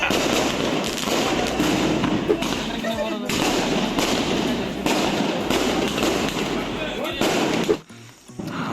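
Diwali firecrackers exploding on a street at midnight: rapid, dense chains of loud crackling bangs, close and continuous for several seconds, with people talking underneath and a short pause near the end.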